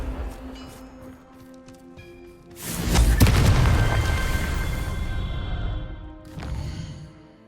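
A loud booming blast from the Confringo spell in the Hogwarts Legacy video game erupts midway, with a rumbling tail that fades over several seconds and a smaller thump near the end.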